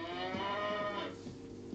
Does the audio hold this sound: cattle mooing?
yes